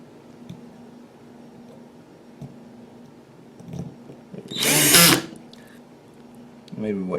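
A power drill on a low torque setting drives a Phillips machine bolt while mounting a Garmin Striker 7sv. It gives one short, loud, close whirring burst after quiet handling noises and a voice.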